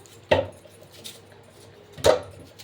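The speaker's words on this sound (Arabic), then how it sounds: "خلاص هنقطع البصل كده بالشكل ده" An onion cut into small pieces with a knife on a board: two sharp, close chops roughly two seconds apart, with quiet handling in between.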